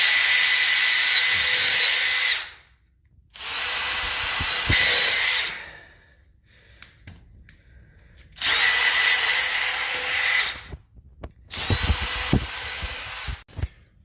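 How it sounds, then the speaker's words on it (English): A power drill bores a series of holes into a cast iron drain hub, running in four long loud bursts separated by short pauses, with faint handling noises between them. "now that you've got a series of holes drilled, you can go back around with a bigger bit and then rough it"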